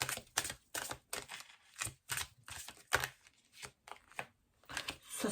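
A deck of tarot cards is shuffled by hand in quick, irregular bursts of riffling and slapping, close and crisp, with brief pauses between the flurries as some cards slip out and fall.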